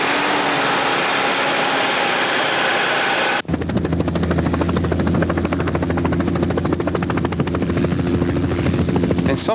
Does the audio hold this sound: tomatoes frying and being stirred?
no